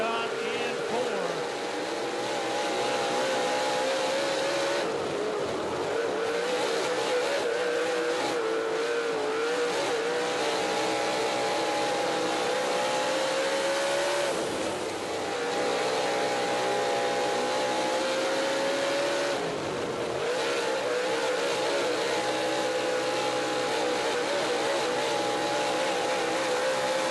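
Dirt track race cars roar continuously through a heat race, engines droning loud and close with rising and falling revs as the pack passes, and a commentator's voice runs over the noise.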